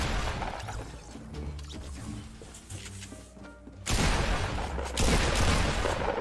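Gunfire in the video game Fortnite, with loud bursts of shots and crashing impacts that open around the four-second mark and again near five, over busy game noise and a faint background.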